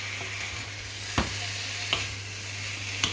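Food sizzles steadily in a frying pan for banquet rice, a continuous broadband hiss with a low hum underneath, broken by three sharp scrapes and clunks as the pieces are turned over.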